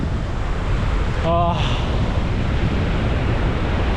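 Sea waves wash onto the shore at Pondicherry beach, making a steady loud rushing surf mixed with wind buffeting the microphone, and a brief tonal sound partway through.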